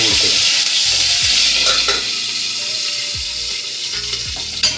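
Curry leaves crackle and splutter in hot oil for bhagar, a busy close sizzle with sharp spitting pops running throughout, no voices.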